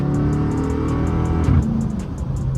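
The V8 engine of a seventh-generation Dodge Charger R/T revs up hard as the car accelerates, a loud throaty roar climbing in pitch, then shifting and easing off near the end.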